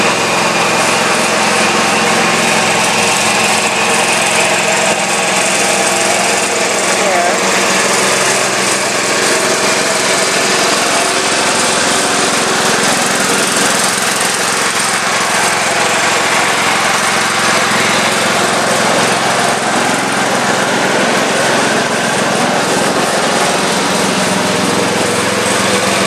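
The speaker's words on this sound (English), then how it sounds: "You guys probably heard the lawnmower running." A lawn mower engine runs loud and close without a break, its high buzzing drone holding steady throughout with no voices over it.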